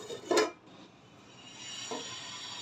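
A metal lid set onto a pot of sabudana khichdi gives a single bright clink, followed by a quieter second tap and a soft steady sizzle underneath.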